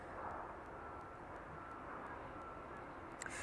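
An aircraft on the runway at East Midlands Airport in the evening, a steady distant engine roar with low rumble, faint and even throughout.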